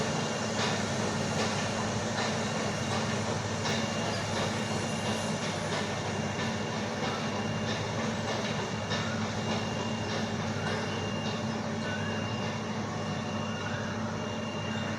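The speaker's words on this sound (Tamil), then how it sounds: "ஆமாம் ஆமாம். ட்ரெயினில் போகிறது." The Ooty toy train runs along its line, giving a loud, constant rumble of wheels and carriages with faint rhythmic clicking throughout and no voices.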